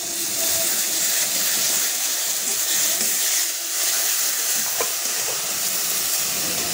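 Paste of dried red chili, cashew and tomato frying in a pan, giving a continuous loud sizzling hiss throughout.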